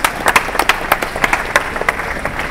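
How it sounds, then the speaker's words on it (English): An audience at a cycling trade show claps to welcome a team of mountain bike riders on stage, with distinct, uneven hand claps of moderate loudness rather than a dense roar. "Give them a big round of applause."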